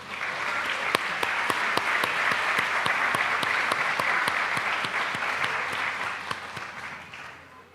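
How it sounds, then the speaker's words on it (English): Sustained applause from an audience at an employee recognition ceremony, dense clapping with a few sharper claps standing out, steady and full throughout before easing slightly at the end. "Let's give this group a round of applause"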